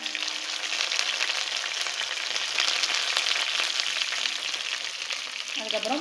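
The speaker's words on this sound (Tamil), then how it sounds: "கடுகு வெடிச்சதுக்கப்புறமா அதுக்கப்புறமா வாசனைக்கு கருவேப்பிலை போட்டுக்கிறேன்" Mustard seeds and curry leaves frying in hot oil, a steady bright sizzle with crackling pops throughout, close and continuous.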